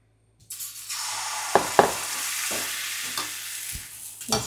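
Appam batter is poured into a hot, oiled pan and sizzles loudly at once, with a few sharp scraping clicks as the pan is swirled over a low background hum.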